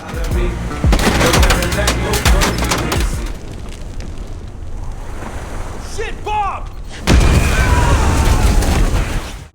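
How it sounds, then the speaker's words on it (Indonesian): A loud improvised bomb blast in an action film rolls out as a long rumbling boom, followed by a second heavy burst several seconds later over a dense mix of film score and effects. "Saat bom sudah meledak"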